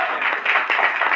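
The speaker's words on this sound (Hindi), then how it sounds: "जोरदार तालियां।" Audience clapping at a gathering, a steady wash of applause filling the short clip without a break.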